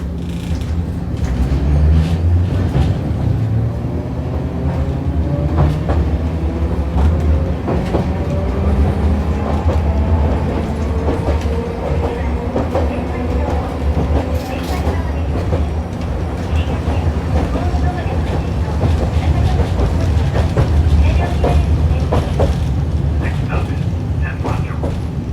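Hiroden 650 series tram no. 652 running between Nishi-Hiroshima and Kamiyacho-nishi in Hiroshima: a loud, steady interior rumble with rhythmic wheel clatter on the rails, heard from on board, with a few faint voices.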